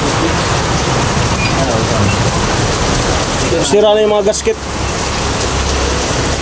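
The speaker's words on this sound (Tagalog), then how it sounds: "Grabing ulan." Dense, steady downpour of heavy rain hissing loudly throughout, with a voice briefly speaking over it partway through.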